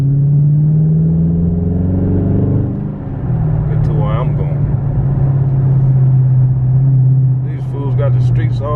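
A Subaru STI revs at a street car meet, its loud engine droning steadily close by with swells of throttle, while crowd chatter and voices carry over it.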